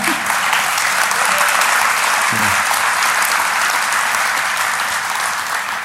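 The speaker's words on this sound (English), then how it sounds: "Somebody clap." Audience applause at the DEF CON 21 hacker conference, a dense, steady wash of clapping from a crowd that fills the hall evenly and loudly throughout.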